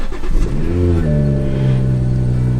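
A stock BMW 340i with the B58 engine cold-starts: a short cranking burst, then a rising flare of revs that settles into a steady, smooth high idle, fairly loud and without talk.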